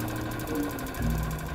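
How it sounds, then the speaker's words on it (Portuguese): An electric fan spins steadily with a continuous mechanical whir and hum, a low motor drone that swells slightly partway through, heard alone without talk. "nós vemos o ventilador girando como se a luz estivesse acesa"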